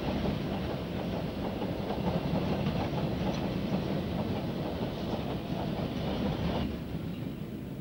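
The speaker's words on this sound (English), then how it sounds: "The signal is off at East Junction for a coal train from either the Shirebrook or Worksop area" A coal train rumbles past on a freight line near East Junction, a steady dense roar of wagons with rhythmic clickety-clack wheel beats, fairly distant and continuous throughout.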